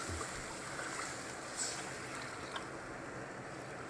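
Half a pitcher of water poured onto pancit canton in a tray, a steady soft splashing and rushing stream heard up close throughout.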